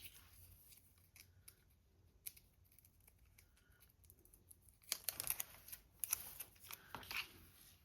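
Scissors snip through clear tape laid across white paper, cutting it down the center while making tall skinny tags from time cards; a quiet stretch of light handling gives way to several close, crisp cuts in quick succession.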